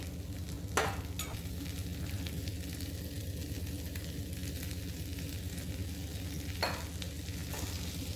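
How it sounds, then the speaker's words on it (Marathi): Green chili thecha frying in oil in a pan on low heat, a steady sizzle running throughout with a couple of sharp scraping stirs near the start and again toward the end. "गॅस बारीकच ठेवायचा आहे हे सर्व व्यवस्थित एकदा हलवून घ्यायचं आणि एक चमचा तेल त्यामध्ये टाकायचं आहे"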